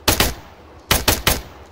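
Automatic gunfire in the military shooter game Arma 3: two rapid bursts of close, loud shots, a pause, then three more sharp reports in quick succession, with no talking.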